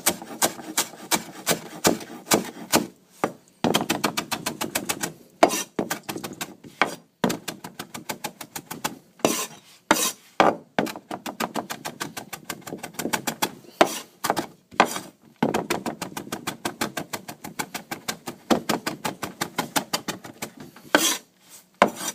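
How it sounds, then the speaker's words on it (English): Fresh cilantro, stems included, chopped with a knife on a cutting board for guacamole: rapid, rhythmic dry chops in long bursts with brief pauses, close and crisp throughout, with no talking. "Then we take the cilantro and we chop everything with the stem."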